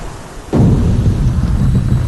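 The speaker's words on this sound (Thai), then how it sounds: "นี่น้ำไหลลงแล้วโอ้โหสุดยอด" Sudden loud rush of water pouring down in a Resident Evil video game, bursting in after a quiet moment and continuing as a heavy, rumbling torrent.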